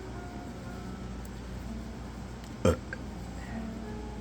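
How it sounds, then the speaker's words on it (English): A single short, loud burp from a person, a brief burst standing out against steady low background noise, with no talking around it. "I burp a lot, so if you don't like that, then yeah, you might want to, I don't know, run away."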